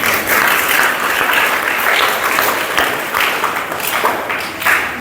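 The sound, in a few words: congregation clapping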